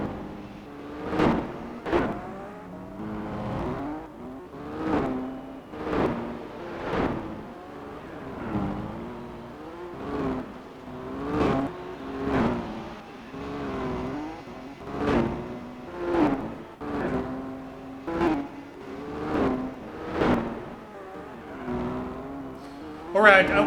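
Race car engines in Gran Turismo 4 drone through a steady run of rising and falling revs, each pass swelling and fading in a rhythmic cycle, loud and close with no voices over it.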